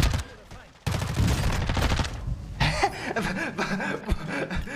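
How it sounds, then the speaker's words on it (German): Rapid bursts of gunfire ring out in a shooter video game, loud and close, broken by brief pauses, while a player chuckles and talks over the shots. "Habe ich gerade geschossen?"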